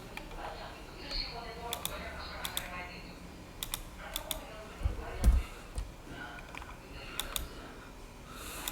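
A computer keyboard is used for a Ctrl C copy, giving scattered sharp key clicks, a few at a time, close and fairly quiet, with a thump in the middle and faint background noise.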